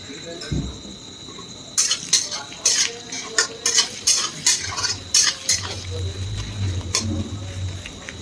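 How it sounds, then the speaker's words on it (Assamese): Chopped onions and chillies fry in hot oil in a pan while a metal spoon scrapes and clatters in a quick, regular rhythm over a steady soft sizzle, close by. "ইতিমধ্যে জলকীয়া পিঁয়াজ তেলত পৰিলে। এতিয়া খুব ধুনীয়াকৈ ভাজি ল'ম।"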